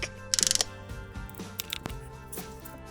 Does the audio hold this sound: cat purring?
no